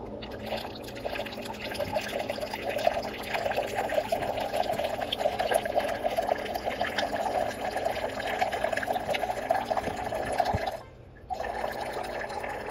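Steady water streaming from the cold tap of an Electrolux Aqua Plus purifier, a continuous close splashing flow with a brief dip near the end.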